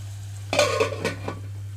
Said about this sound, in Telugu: ఇక్కడ మూత పెట్టేస్తున్నాను ఇప్పుడు